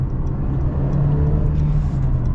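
A 2021 Mercedes C 300 accelerates in Sport Plus mode, its engine a loud, steady, low droning rumble heard from inside the cabin.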